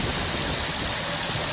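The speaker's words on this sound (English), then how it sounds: "We can listen to the engine real quick." A Hemi car engine idles at a state government vehicle auction, a steady close hum with a faint chattery tick from the fuel injection, running alone without voices.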